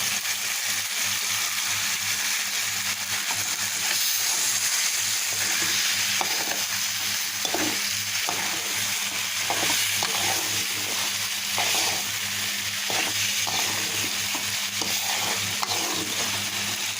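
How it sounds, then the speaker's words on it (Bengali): Vegetables being stirred and fried in a pan during home cooking, a steady loud sizzle with repeated scraping stir strokes throughout, no voices. "এখন ভালোভাবে মিশিয়ে দেবো"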